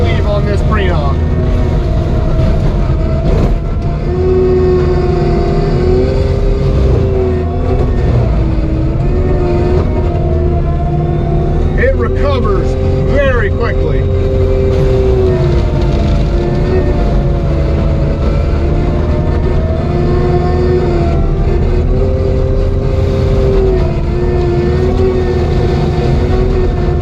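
A Prinoth machine with a 60-inch mulcher head spins steadily through wisteria-infested ground, giving a loud, continuous droning engine roar with a shifting whine throughout.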